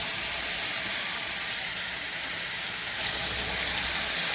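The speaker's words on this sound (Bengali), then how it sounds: "কড়াইতে দিয়ে দেবো সামান্য গোটা গরম মশলা ফোড়ন, দিয়ে এই সাথে এই যে আদা রসুন কাঁচা লঙ্কা পেঁয়াজের যে পেস্টটা বানিয়ে রেখেছিলাম সেই পেস্টটা এর মধ্যে ঢেলে দেবো" A paste of ginger, garlic, green chilli and onion fries with whole garam masala in a wok. It gives a steady, loud broadband hiss that continues without a break, with no talk.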